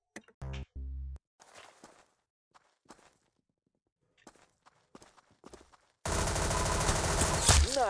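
Video game gunfire comes in bursts: two short, loud, close blasts near the start and a long sustained automatic volley at the end, with quieter footsteps and scattered clatter between them.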